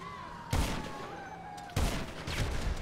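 Two sharp, loud video game explosions in GTA 5 go off about a second apart, each followed by a rumbling, crackling tail over a steady background hum.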